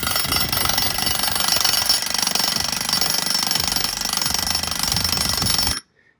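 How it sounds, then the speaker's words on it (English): A jackhammer pounds continuously in a loud, rapid rattle up close while breaking ground on an Earthship build, then cuts off abruptly into silence. "We got Michelle jackhammer"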